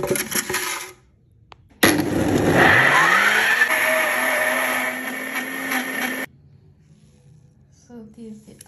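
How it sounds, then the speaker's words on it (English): A blender whirs loudly through a fruit smoothie with pressed lemon juice, starting abruptly, its motor pitch settling as it runs steadily for about four seconds before cutting off; brief quiet handling noises before and after. "So I'm going to blend everything together."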